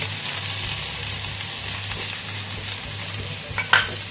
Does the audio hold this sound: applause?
no